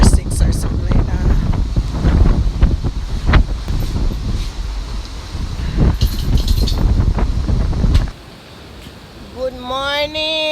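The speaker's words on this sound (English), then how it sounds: "As you can see, a lot of wind coming in." Strong wind from Tropical Storm Grace in Negril, Jamaica roars across the microphone in loud, gusting buffets near the sea for about eight seconds, then eases near the end as a voice speaks.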